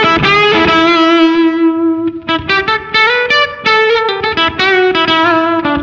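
An electric guitar played through a Silktone Fuzz+ fuzz pedal rings out with thick, saturated sustained notes, then choppy picked phrases with clear dynamics, loud and alone.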